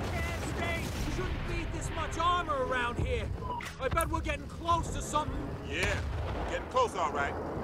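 Enemy gunfire erupts in the video game Battlefield: Bad Company, with rapid bursts of shots and heavier booms coming in clusters. The firing is layered with other in-game effects and voice-like sounds.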